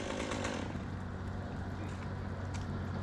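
A chainsaw fitted with a Panther bar cuts through an ice-covered tree during a first-snow tree removal job, its engine roaring loud and steady and close by for the whole stretch, with no pauses or drop in pitch.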